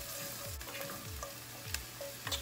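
Onions sautéing in bacon grease in a pan, a soft steady sizzle with repeated utensil scrapes and faint clinks, close and without speech.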